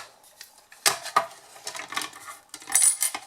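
Cloud-shaped dies cranked through a die-cutting machine make a series of quiet metallic clicks and rattling clatters, a few sharp ticks followed by a louder busy burst near the end.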